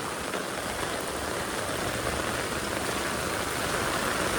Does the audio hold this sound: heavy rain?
yes